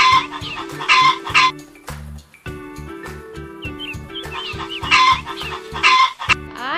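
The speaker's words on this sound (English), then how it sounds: "H is for hen." A hen clucking repeatedly in a close, loud, rhythmic series, with a few higher squawking calls breaking in between the clucks.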